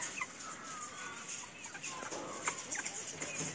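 Chickens at a poultry market clucking softly and intermittently, faint and somewhat distant over low background noise.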